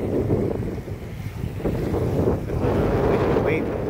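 Strong wind buffets the microphone beside a choppy lake while waves splash and slosh continuously, a loud, dense roar with no pauses.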